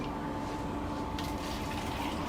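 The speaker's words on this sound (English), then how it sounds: "we can even pour some of that out to give our viewers a better view" Faint, steady liquid trickle as water is poured out of a container at a lakeside restaurant, soft and continuous under a low background hum.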